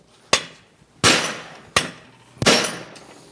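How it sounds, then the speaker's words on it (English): Big hammer striking a universal joint to shear its plastic, four loud, sharp metallic blows about two thirds of a second apart, each ringing briefly before the next. "Back to the big hammer. We've got to shear the plastic going this way."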